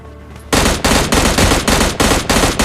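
Automatic gunfire in PUBG Mobile Lite breaks out after a quiet start, loud and close, with rapid rhythmic bursts of shots continuing to the end.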